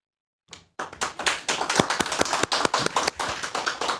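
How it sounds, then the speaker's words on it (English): A woman claps her own hands alone on stage during a barbering and cosmetology industry talk, a steady run of close, sharp single claps after a brief pause. "I'm clapping for myself up here, sorry."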